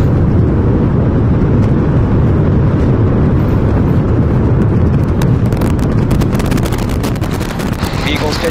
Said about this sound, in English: We have liftoff. Go Super Heavy. Go Starship.